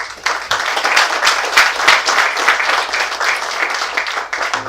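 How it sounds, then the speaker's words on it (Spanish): Dense, steady audience applause welcomes a musician onto the stage at a live concert, a close crowd of many hands clapping continuously for several seconds without a break. "Lo recibimos con un fuerte aplauso."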